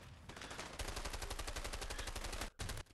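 Rapid bursts of gunfire from the video game A Way Out, a dense, continuous volley of shots that runs loud and close for nearly three seconds before a brief gap and a final short burst.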